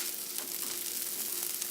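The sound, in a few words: onion and garlic sautéing in a pan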